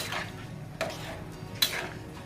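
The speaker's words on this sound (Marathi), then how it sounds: "याला हलवून घ्यायचं असं" A spoon stirs a boiling chickpea curry in a pot, giving a few faint, brief scrapes and clinks against the metal over a quiet simmering background.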